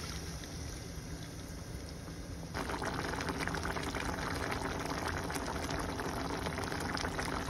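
Coconut milk pours into a pan holding salmon, a liquid splash and bubbling that grows suddenly fuller partway through and then stays steady, with no talk.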